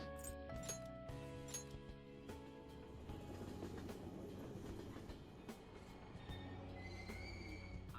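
A game train in Persona 5 Royal rolls along with a steady rumble and rhythmic clatter, plus a few metallic squeals and dings, heard at a moderate, even level.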